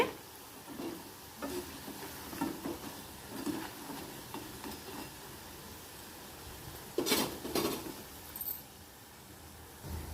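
Colocasia (pullagandha) pieces frying in hot oil, a faint steady sizzle broken by soft scattered crackles and a few louder bursts near the end, with no voices.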